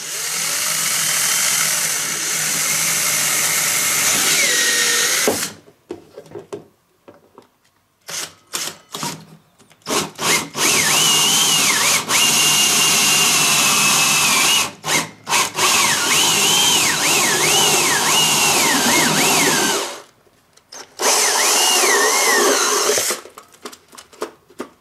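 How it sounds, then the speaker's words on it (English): A power drill with a hole saw bit cutting a hole into a plastic 5-gallon bucket: loud whining bursts of drilling, stopping and restarting several times with short pauses between. "So let's drill that hole with this first,"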